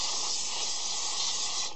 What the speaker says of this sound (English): I'm just gonna take my brake clean and just spray the ever loving bejesus out of it.